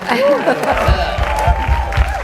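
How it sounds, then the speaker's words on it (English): A live talent-show crowd bursts into clapping and cheering. The dense applause is mixed with murmuring voices and low, rhythmic thumps, loud and close throughout. "Clap for a number, people."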